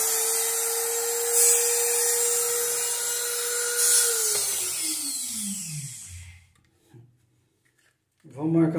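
A power drill whines steadily while cutting into PVC pipe, then spins down as the pitch drops, leaving near silence before a brief noise at the end.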